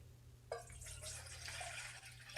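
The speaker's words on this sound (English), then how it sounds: "If I just take this water and I'm gonna put it in a bowl." Water poured into a bowl at a found-sound exhibition, a soft continuous splashing trickle that starts abruptly and runs steadily under a low background hum.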